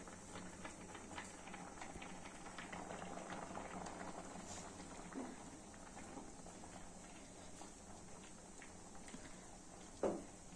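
A steady low bubbling and hiss of mixed-vegetable curry simmering in a pot, continuous and fairly quiet, with one brief clink near the end.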